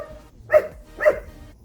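A dog barks twice, about half a second apart, loud and fairly close, beside a backyard pool, with a low background hum and no talking.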